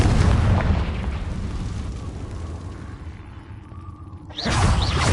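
Fiery spell blast from Hogwarts Legacy gameplay, a loud rumbling boom that swells and fades over several seconds, then cuts to a fresh burst near the end.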